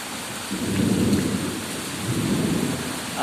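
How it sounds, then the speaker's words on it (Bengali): Heavy rain pours steadily during a Kalbaishakhi storm, a dense hiss of downpour broken by low, rolling swells of thunder that rise and fade, with no voices. "এত বৃষ্টি হচ্ছে।"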